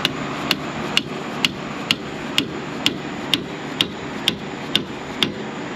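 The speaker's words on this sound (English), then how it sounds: "A few hits with a hammer," Steady hammer blows on a boom cylinder part of a Takeuchi TB135 excavator, about a dozen sharp metallic taps evenly spaced roughly every half second over a low background hum.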